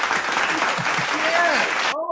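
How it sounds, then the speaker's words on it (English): Soundboard applause effect of a crowd clapping steadily for about two seconds, loud and dense, with a few sliding tones over it and a voice briefly audible at the end. "Give a quick little round of applause for John, everyone"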